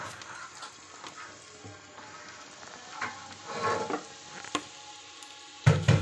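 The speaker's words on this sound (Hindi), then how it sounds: "हरी मिर्च भी फ्राई हो चुकी है।" Green chillies and onions frying in a pan for pulao, a faint steady sizzle with soft stirring scrapes, and a louder clatter near the end.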